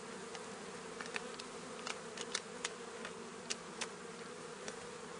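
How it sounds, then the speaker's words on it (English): Honeybees buzzing around a small nuc hive, a steady close drone with scattered louder passes of individual bees, faint and continuous with no talking. "They're starting to buzz around me now, getting a bit annoyed."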